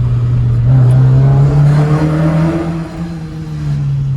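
A Hyundai Coupé engine drones loud and close in a sustained rev, holding a steady tone that rises slightly, then dips briefly before settling again.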